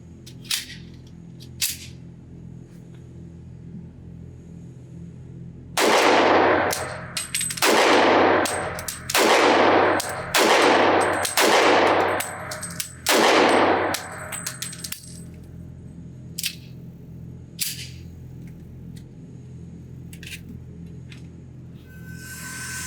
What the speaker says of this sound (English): I'm going to shoot it at another IDPA target, and let's hope the slide locks back this time